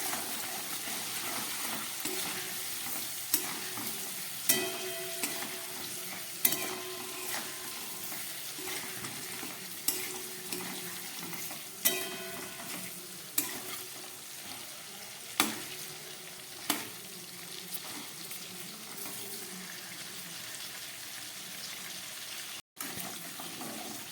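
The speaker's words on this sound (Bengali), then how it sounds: "খুব হালকা হাতে পটলগুলো ভেজে নিলাম" Pointed gourd pieces fry lightly in a pan with a soft, steady sizzle, punctuated by regular clinks and scrapes of a spatula turning them, fairly quiet and close.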